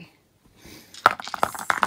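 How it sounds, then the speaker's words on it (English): Three dice are rolled for a tarot reading, clattering and tumbling against a hard surface in a quick burst of clicks and knocks after a short quiet lead-in. "And we're rolling three dice for you today."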